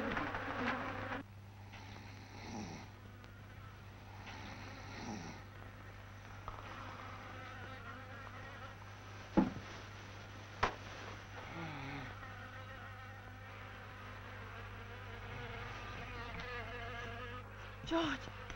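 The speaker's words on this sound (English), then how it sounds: "Insects. Over there." Faint insect buzzing over a low steady hum, with a few soft knocks and clicks scattered through a long, quiet stretch.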